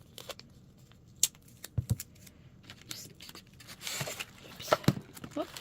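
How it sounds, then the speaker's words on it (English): Tape is pulled, torn and pressed around a no-clay spooky tree sculpture in a craft diorama, producing scattered soft crackles and sharp ripping bursts at close range in a quiet room. "So you're just going to tape your entire sculpture."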